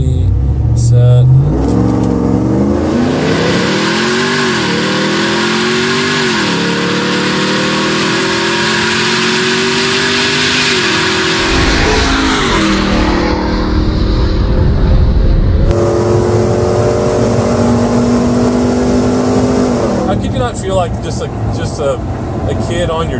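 A RAM TRX 6x6 pickup truck launches on a quarter mile run from a foot-brake start, its engine loud and close as it revs and climbs through rising gear pulls, with brief shift breaks and a person talking over it.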